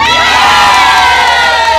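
Children and a crowd shout and cheer loudly and continuously at a free ice cream giveaway for kids in Caloocan, a dense, sustained roar of excited young voices close by.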